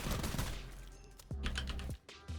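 Video game gunfire hammers at corpses in rapid bursts, crisp automatic volleys cutting in and out with brief gaps between them, loud and close with no voices.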